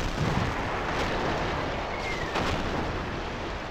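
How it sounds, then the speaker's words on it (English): Mortar rounds landing during a Battlefield battle, a dense wall of rumbling blasts with sharp bursts cracking through steady battlefield noise, close and loud throughout. "Damn, they're firing with mortars at us."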